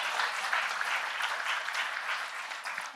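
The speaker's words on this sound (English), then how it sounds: "We can give everyone, again, a round of applause." Audience applause fills the room at a women's dinner gathering in Harlem, New York, a steady, dense wash of clapping that holds at even loudness throughout with no voices breaking through.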